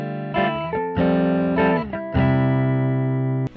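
An electric guitar played softly through a Logic Pro Designer Tweed Crunch amp simulation rings out in a few sustained, lightly driven chords with clean harmonic overtones, each note held before the next, alone and close.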